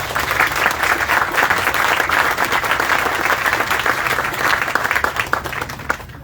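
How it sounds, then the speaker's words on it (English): Sustained, dense applause from a crowd gathered outdoors at a park groundbreaking ceremony, loud and steady for several seconds before tapering slightly at the end. "Please join me in giving them all a round of applause."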